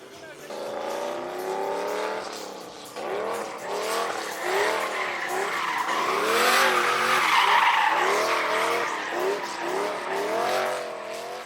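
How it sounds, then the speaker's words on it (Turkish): Drift cars skid through sharp corners at an auto-drift festival in Gaziantep, with sustained tire squeal and revving engines rising and falling in long sweeping wails, loud and continuous. "drift araçları, duman dumana lastikler, keskin virajlardaki performansları"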